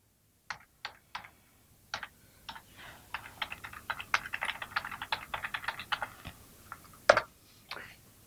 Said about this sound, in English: you can type out the address that was listed in the previous slide.